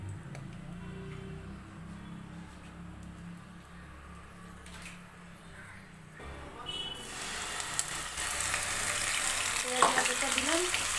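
Whole spices for tempering drop into hot oil for chicken kofta curry, starting with a faint low murmur and then a rising, loud, crackling sizzle that continues steadily to the end.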